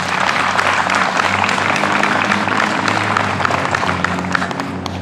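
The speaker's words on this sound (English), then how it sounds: "let's give them one more round of applause before we get going here" Steady applause from a school board candidate forum audience fills the room, a dense, even wash of clapping that holds loud from start to finish with no talk over it.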